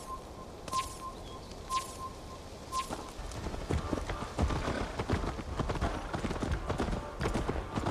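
Hoofbeats of a horse in Assassin's Creed Valhalla start after a few faint chirps and tones, building into a steady close gallop that runs to the end, with a little talk in the background.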